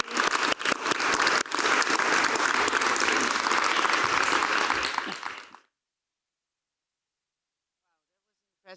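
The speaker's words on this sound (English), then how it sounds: "please give a very warm applause both to Atifa and Hannah" Warm applause from a forum audience, dense and loud for about five seconds with a few sharp claps near the start, then it ends abruptly into silence.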